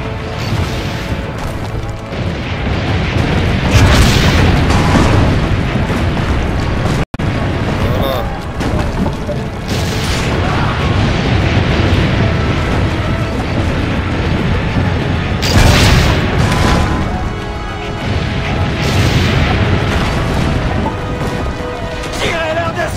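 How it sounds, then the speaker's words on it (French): Repeated heavy cannon booms and crashing impacts in a loud battle in Assassin's Creed Brotherhood, with shouting voices and clatter between the blasts. "Chargez le canon. Visez leur canon,"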